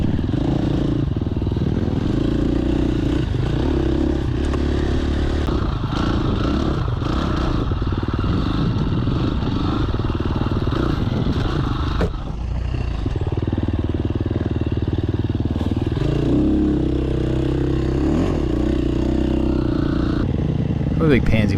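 A tuned dirt bike engine runs continuously throughout, a steady loud idle and rumble with slight revving variations and some clattering, while a person talks over it.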